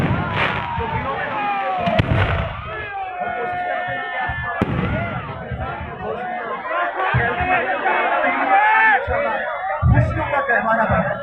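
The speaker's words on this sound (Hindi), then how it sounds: "ये भी आपने आतिशज़दगी का मुजाहरा देखा है" Fireworks display at a Punjab Culture Day celebration, with a crowd: scattered bangs and crackles pop throughout amid constant crowd chatter and cheering, with some voices talking close by.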